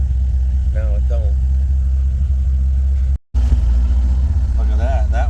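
A twin turbo car engine idles with a steady low rumble close by, while people talk over it at intervals.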